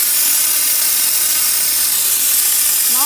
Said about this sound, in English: Now steam has come out.